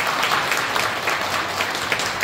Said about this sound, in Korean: 우리 장로님들께 감사박수 한번 하겠습니다.